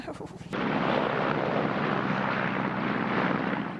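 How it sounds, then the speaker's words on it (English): A helicopter approaching, its steady loud rotor and engine roar filling the scene after a brief burst of rapid clatter at the start. "the helicopter is coming towards us actually"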